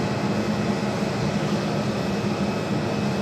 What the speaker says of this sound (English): We do have that Dreamliner lined up, 7 left on the south side.